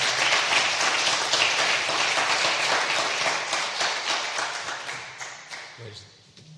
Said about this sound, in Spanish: le voy a pedir al público que te demos un aplauso de bienvenida.